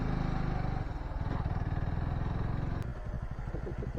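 A Suzuki Gixxer 250 motorcycle climbs a steep grooved concrete road at a 25% grade on Mount Tsukuba, its single engine thumping in a rapid steady pulse close by, then easing into a slower, choppier putter.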